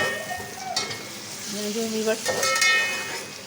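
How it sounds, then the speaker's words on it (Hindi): Onions sizzle steadily in a hot pan, a close, continuous frying hiss with a few stirring scrapes and faint background tones. "प्याज लाल हो रही है, हल्की हल्की पिंक होगी"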